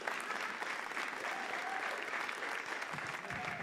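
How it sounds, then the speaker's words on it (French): An audience at a conference session applauds with dense, sustained clapping that stays even and fairly distant, without break for a few seconds. "Est-ce que vous pouvez applaudir, juste pour que je prenne de l'eau?"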